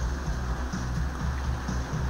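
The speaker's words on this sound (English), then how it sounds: "it's raining outside because we have a typhoon" Steady rain falls outside during a typhoon in the video game Shroud of the Avatar, a dense, even wash of drops with a low rumbling undertone and no voices.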